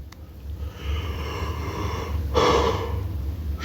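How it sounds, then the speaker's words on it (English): One person gives a long, breathy yawn close to the microphone. It swells to a fuller exhale about two-thirds of the way through, over a low steady background hum. "Sorry, I had a yawn there."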